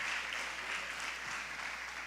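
A church congregation applauding during an evening worship service, a dense, steady patter of many hands clapping, heard at a distance and fairly faint with no talk.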